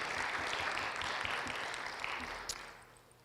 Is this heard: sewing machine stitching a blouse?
no